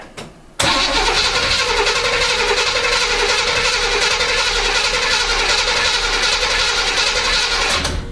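An old car engine fed by a short fuel line from a gas can: it cranks briefly, catches abruptly and settles into a loud, steady, slightly rough idle that runs close by until the end.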